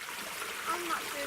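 A creek flows steadily in a continuous rushing, trickling wash of water, filling the whole stretch at an even level with no break.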